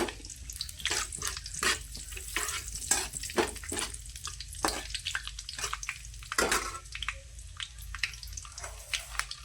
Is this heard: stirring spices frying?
yes